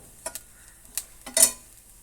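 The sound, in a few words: spice powders frying and being stirred with roasted coconut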